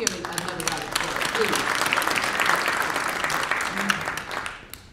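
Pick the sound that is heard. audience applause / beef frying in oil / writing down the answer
audience applause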